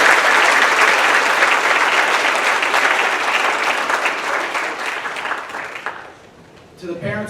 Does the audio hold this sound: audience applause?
yes